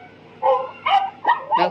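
A baby's flash card toy plays a recorded dog barking sound, four short electronic bow-wow barks in quick succession, close and clear with no talk over them.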